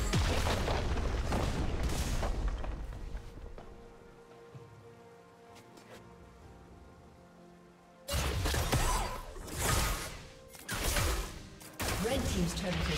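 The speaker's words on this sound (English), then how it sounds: "Red team's turret has been destroyed." Turret destruction in a League of Legends match: heavy crumbling blasts and debris bursts, loud at the start and again in the final seconds, with a quieter stretch of game ambience between.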